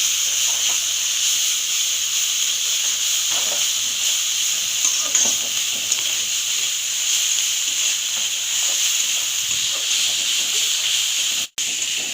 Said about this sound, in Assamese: এইখিনি মই কেঁচা গোন্ধটো নোযোৱালৈকে ভাজি লৈছোঁ